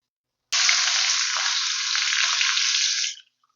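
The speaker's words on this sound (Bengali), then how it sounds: "এখন আমি এখানে পরিমাণ মতন সাদা তেল ঢেলে দিচ্ছি।" White cooking oil hits a hot wok with a sudden loud, steady sizzle that starts sharply and holds evenly for about two and a half seconds before cutting off, with no voices.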